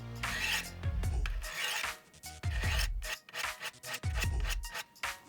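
Repeated sharpening strokes of a knife blade drawn across a Work Sharp Angle Edge sharpener, each a rasping rub lasting about a second, coming in a steady rhythm of roughly four passes, close and clear with no talking.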